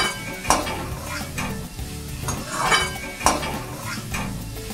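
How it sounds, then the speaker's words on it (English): Chopped tomato being stirred into vegetables frying in a pan, with a steady sizzle broken by about three louder scraping stirs of a utensil against the pan, close up and with no talking. "it's time to put in the chopped tomato. And we are going to turn it around till the tomatoes are well blended with the other vegetables."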